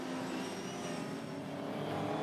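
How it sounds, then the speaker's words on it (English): Race car engines roar steadily in the distance during a production-class race at Hidden Valley, a sustained broad mechanical drone with shifting engine tones and no pauses. "2 totally different race cars squaring off."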